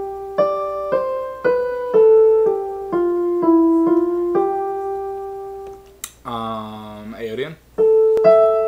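Single keyboard notes trace a stepwise Mixolydian-mode melody for several seconds, clear and close, then a short spoken voice breaks in before one more note sounds.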